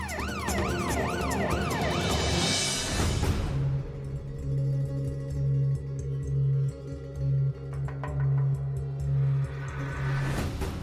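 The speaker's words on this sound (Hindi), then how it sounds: "पुलिस की सायरन की आवाज है, और अपने ही घर के बाहर से आ रही है" A police siren wails, sweeping up and down at first, then gives way to a steady droning tone with a vehicle rumbling close by outside a house, fairly loud.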